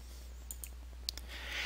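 Faint, sharp computer mouse clicks come in a few scattered pairs over a low electrical hum, close and quiet, with no talking.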